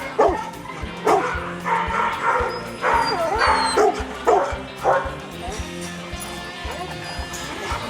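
A pack of dogs at a dog daycare bark, yip and whimper in overlapping bursts, with several dogs close by calling out in an irregular, busy rhythm.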